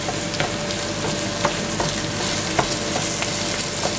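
Minced meat frying in a pan for spaghetti bolognese, a steady loud sizzle with regular scraping taps of a utensil stirring and breaking up the pieces, no talking.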